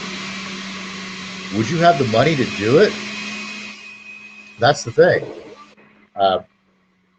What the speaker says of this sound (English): Roommate's making a shake, so pardon the blender noise there.